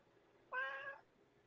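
A single cat meow, close and clear, lasting about half a second against a quiet background.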